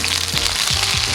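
Food sears loudly in a hot frying pan, a dense close crackling sizzle that holds steady throughout with no voices.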